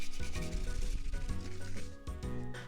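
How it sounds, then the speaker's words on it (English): Fresh ginger is rubbed quickly against a grater in close, continuous rasping strokes. The scraping stays fairly quiet, with a brief pause near the end. "Then I'm going to grate this using grater."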